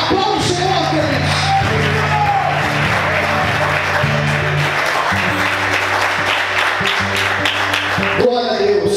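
A church congregation applauds in sustained, dense clapping that fills the room, with shouts and a voice over the top, loud and close, ending abruptly near the close.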